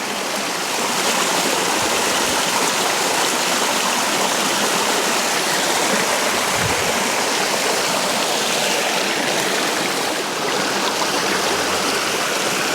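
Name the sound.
small waterfall on a feeder creek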